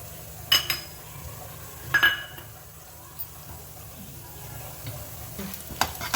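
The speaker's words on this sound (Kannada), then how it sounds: "ಬಾಣಲಿ ಕಾಯ್ದಿದೆ. ಇವಾಗ ನಾನು ಕಡಲೆಬೇಳೆ ಹಾಕ್ತಾ ಇದ್ದೀನಿ." Chana dal tipped into a hot, dry pan and stirred, giving light metallic clinks and scrapes of the spoon with a soft sizzle, a few sharper clatters standing out from a low steady hiss.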